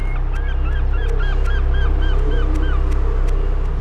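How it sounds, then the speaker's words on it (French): Gulls near the Brooklyn Bridge in New York give a series of repeated short calls at a steady pace over a loud, constant low rumble of the waterfront. "Les mouettes taquinent la brise matinale, tamisée par les filins du pont de Brooklyn."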